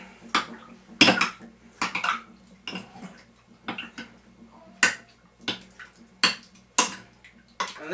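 Cornstarch being stirred into a stir fry sauce in a dish, heard as a series of sharp utensil clinks and scrapes against the bowl in an irregular rhythm, close and fairly loud.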